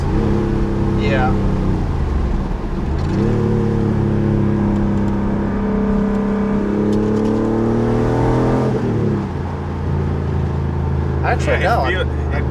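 An air-cooled Porsche engine drones and climbs through the gears as the car accelerates, its pitch rising and dropping with each shift, heard from inside the car with people talking over it.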